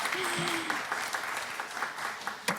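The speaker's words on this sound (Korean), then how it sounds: "다시 한번 좀 박수 한번 부탁드릴게요." Audience at a startup demo day applauds, a moderate, steady patter of clapping from a seated crowd with a few louder claps standing out and a brief voice near the start.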